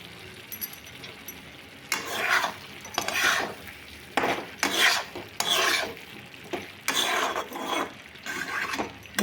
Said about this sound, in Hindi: एबे मु एथरे गरम मसला पकेबी।